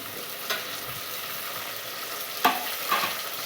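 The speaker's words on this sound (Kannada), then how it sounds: "ಹಸಿಮೆಣಸಿನಕಾಯಿ ಚಟ್ನಿ ಐತೆ ಅದನ್ನ ಹಾಕ್ತೀನಿ" Green chili chutney goes into a hot frying pan, bringing a steady sizzle with a few sharp stirring scrapes and clinks of a utensil against the pan.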